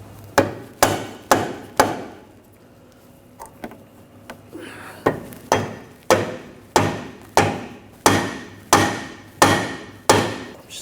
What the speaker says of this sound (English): You can take a rubber mallet